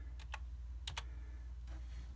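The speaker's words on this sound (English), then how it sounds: "So I'm typing in run down here at the bottom" Typing on a computer keyboard under Windows: a few crisp keystrokes in quick pairs, close and fairly quiet over a low steady hum, with no speech.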